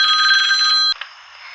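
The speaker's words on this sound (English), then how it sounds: "suffering every time that phone rings" An old-fashioned telephone bell rings loudly and steadily for almost a second, then cuts off, leaving a brief faint echo of the ring before quiet.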